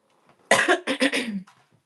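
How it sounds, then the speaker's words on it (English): A close, loud cough, a sharp burst followed by several rapid hacking coughs trailing off, with no talking. "I'm very sorry for coughing in the mic."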